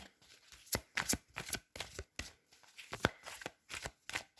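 Oracle cards being shuffled by hand for a reading, a series of crisp riffling bursts in an uneven rhythm, close and fairly quiet.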